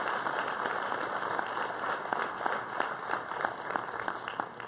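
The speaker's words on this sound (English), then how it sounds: "we need to give them and Mr. Helsel a big round of applause" Audience applause at a Claysburg-Kimmel athletic varsity awards ceremony, honoring the leadership team and Mr. Helsel; dense, steady clapping from a crowd fills the room throughout, with sharper individual claps standing out near the listener.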